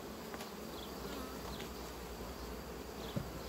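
Honey bees hum steadily inside a crowded hive, a dense, continuous buzz at even loudness with no voices, only faint flickers of individual wingbeats passing over the drone.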